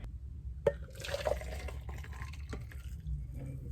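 Sweetened Earl Grey tea, made with a tea bag and sugar, is poured from one container into another in a kitchen. A close, steady trickle of liquid runs for several seconds with a few small clinks and drips, and no one speaks.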